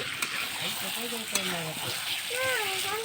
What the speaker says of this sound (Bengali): মাংসটা আমার প্রায় কষানো হয়ে এসেছে